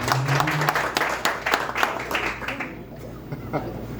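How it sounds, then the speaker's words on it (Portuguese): An audience claps at a saxophone workshop at a music school, a burst of applause with many hands fading out after about three seconds, a brief tone near the start. "Palmas para o César"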